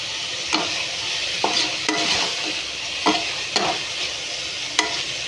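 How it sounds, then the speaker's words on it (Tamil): Mushrooms for a mushroom biryani sautéing in a pan, a steady broadband sizzle broken by several sharp stirring scrapes spaced about a second apart, close and fairly loud with no talking. "காளான், அதை போட்டுருணும். போட்டு நல்லா வதக்கணும்."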